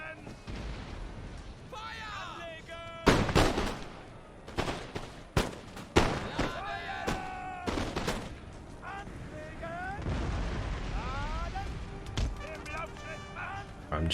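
Musket volleys from Prussian line infantry in the Empire: Total War strategy game crack out as sharp, irregular bursts of gunfire over a steady battlefield din, with shouts and voices woven through.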